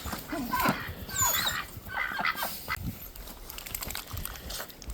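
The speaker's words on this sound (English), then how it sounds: "What do you think, duckies? Need a little water today?" Farm ducks and geese honk and quack in a busy, overlapping flurry of calls close by. A few squeaky higher cries join in, and no clear speech is heard.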